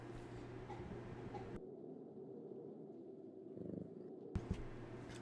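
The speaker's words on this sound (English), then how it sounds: "Kitty purring." A cat's faint, low rumbling purr continues steadily up close, with a couple of soft thumps near the end and no talking.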